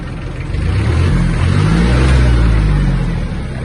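The small engine of an Iseki TG-253 Japanese mini tractor revs up and holds a loud, steady drone close by, rising slightly in the middle before easing off.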